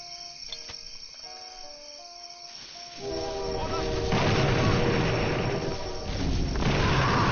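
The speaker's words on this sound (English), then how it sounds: "Looks like my train's coming" A train rolls in during a video game, its rising rumble growing loud from the third second onward and holding steady, with a horn-like tonal line over a cricket-like insect chirp in the quieter opening.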